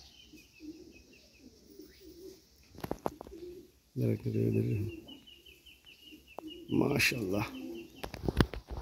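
Pigeons coo in low, repeated throaty rolls at close range, while someone talks briefly over them and wings flap near the end.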